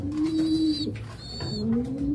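Steady low pigeon cooing, a smooth rolling hum that swells and dips, with faint higher chirps over a constant background hiss.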